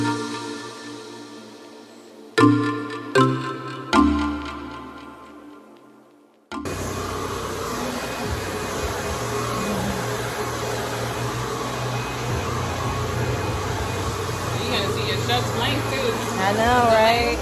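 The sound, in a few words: hair dryer blow-drying hair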